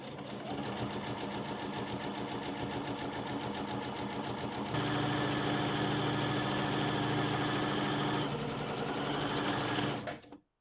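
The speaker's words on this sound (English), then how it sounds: "just sew them together with a seam allowance" A sewing machine stitches a bishop-sleeve seam in a steady mechanical whir that picks up speed midway, runs fast and even, then cuts off at the end.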